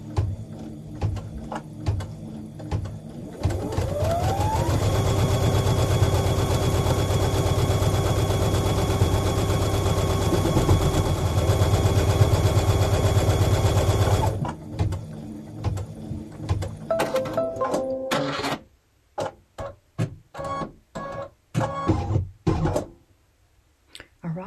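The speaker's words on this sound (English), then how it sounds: "So let's go ahead and stitch it." A sewing machine stitches a fabric potholder. Its motor whirs up and then runs in a steady, loud, buzzing drone for about ten seconds before stopping, followed by scattered clicks and handling noises.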